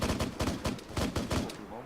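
Rapid bursts of gunfire from the military simulation video game ArmA 3 crack out repeatedly in quick succession during a milsim session, fairly loud and close, with short gaps between volleys.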